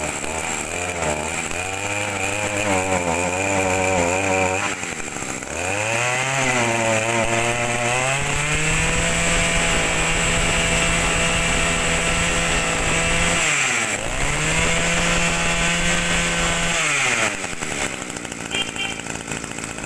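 An Echo 243 brush cutter engine runs loud and close, its two-stroke note revving up and down through several throttle swells, dropping briefly near the end before picking up again, with no talk over it.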